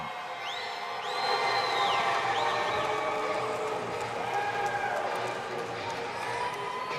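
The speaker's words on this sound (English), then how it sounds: "Crowd's excited." Arena crowd at an amateur MMA lightweight title event cheering as a fighter walks out, a loud sustained roar with whoops and whistles rising after the first second, with walkout music and voices mixed in.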